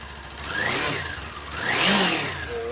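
A 2019 Kawasaki Ninja 400 engine revs twice close by to about 5,000 rpm, rising and falling with a smooth, throaty roar over a steady idle.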